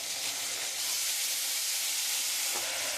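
Spice masala cooked down with tomato paste sautés in a pan, giving a dense, continuous hiss and sizzle that stays loud and even from start to finish.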